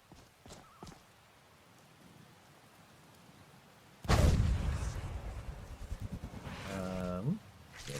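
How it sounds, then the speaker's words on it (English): Rain in the video game Skyrim: after a quiet stretch with a few soft knocks, a loud, steady broadband rush of rain comes in and holds, with a voice briefly audible over it near the end. "Oh, good. Rain."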